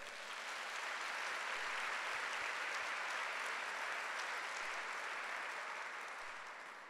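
A church congregation at a Sunday service breaks into long, full applause, a thick continuous roar of many hands clapping that swells and then eases slightly toward the end.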